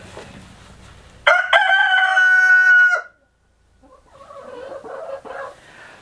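A rooster crows loudly and close by, one long drawn-out call, followed by softer clucking and farmyard noise.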